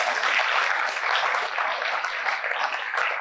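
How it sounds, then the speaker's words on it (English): Audience applause at a Meridian Anti-Drug Coalition 20th anniversary event, a steady wash of many hands clapping that holds at an even level throughout with no break. "Give John a round of applause."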